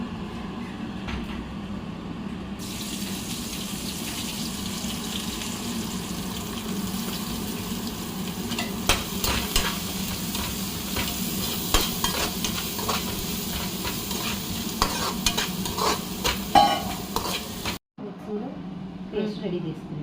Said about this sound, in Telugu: వేసేసి ముందు కొంచెం సాల్ట్ యాడ్ చేయడం వల్ల ఆనియన్స్ బాగా డీప్ ఫ్రై అవుతాయి